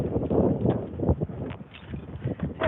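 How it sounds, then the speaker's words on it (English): Strong wind outdoors in the dark buffets the microphone in uneven low rumbling gusts, loud and close, with no talking. "It is so windy."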